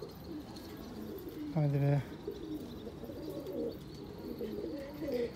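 A single low pigeon coo rises clearly over soft outdoor background noise, with a brief spoken remark nearby.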